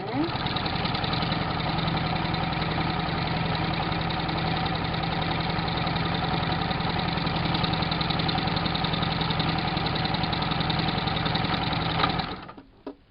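A sewing machine runs continuously while stitching fabric from an old shirt along a cut line to make a turban, a steady, fast mechanical whir that holds evenly for about twelve seconds before stopping.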